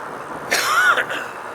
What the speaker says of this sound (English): There's a good cold cough right there.